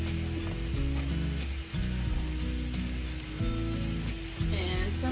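Burger patties for diner-style patty melts, seasoned with salt, pepper and onion powder, sizzle in a pan with a steady crackling hiss over a low tonal background.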